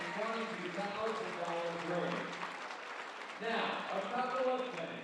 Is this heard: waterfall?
no